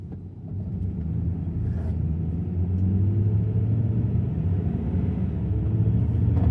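A car rolling slowly along a road in Athens, Georgia, on a winter drive: a steady low engine and tire rumble, close and continuous, with no voices over it.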